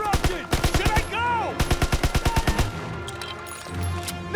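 A mounted MG in Call of Duty WWII fires loud, rapid evenly spaced bursts, two long strings of sharp cracks separated by a short pause, then tapering into quieter battle noise.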